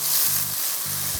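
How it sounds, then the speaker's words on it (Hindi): Soy sauce hits a hot wok and sets off a steady, bright sizzle that holds for the whole moment, with a low intermittent hum beneath it and no talking. "अब इसमें मैं डाल रही हूँ सोया सॉस"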